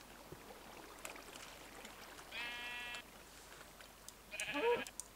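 Minecraft sheep bleating, two short wavering bleats a couple of seconds apart, moderately close over a low steady background hum.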